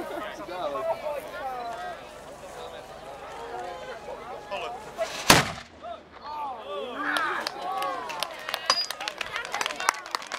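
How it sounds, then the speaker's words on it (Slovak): Historical hand firearms fire at a castle ruin demonstration, Pustý hrad, with one loud sharp shot standing out amid shouted commands and crowd chatter, followed by further scattered cracks under continued voices. "Takže toto bola čiastočne rýchla streľba"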